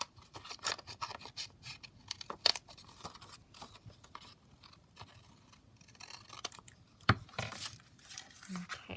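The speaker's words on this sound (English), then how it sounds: "and then I'm just going to snip it along." Scissors snip along a strip of paper for a scrapbook envelope pocket page, giving faint, close, irregular cuts and soft paper rustles, with a louder snap or two, under a quiet indoor background.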